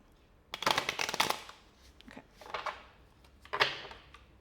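An oracle card deck is shuffled by hand in three quick riffling bursts, crisp and close, with brief pauses between them and no talk.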